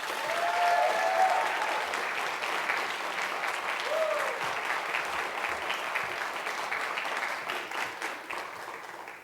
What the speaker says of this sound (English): if we can give him a round of applause and welcome him